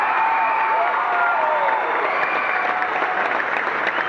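A basketball crowd in a gym applauds a player at a boys' high school game, with loud, steady clapping and cheering that holds for the whole stretch. Scattered whoops and voices rise above it.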